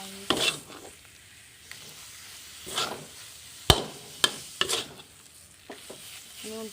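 Pineapple filling for nastar cookies, made with sugar, cooks in a pan while being turned over. Scraping spatula strokes come and go over a soft, steady sizzle, with a few sharp knocks against the pan.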